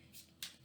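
Brief, quiet riffling of tarot cards being shuffled, a few soft papery flicks in under a second.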